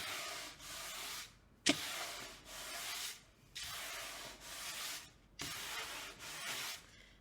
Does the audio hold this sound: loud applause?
no